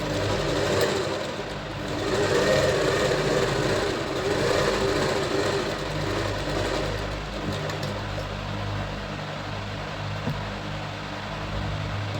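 A sewing machine stitches a blouse at close range, its motor whirring steadily through the whole stretch, a little louder early on and easing slightly toward the end, with no talk over it.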